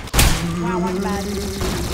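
Gunfire from the Peacemaker gun in the Roblox game Arsenal: one sharp loud shot at the start, followed by a sustained rumbling noisy tail with game sounds beneath.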